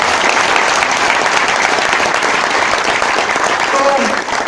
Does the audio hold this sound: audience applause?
yes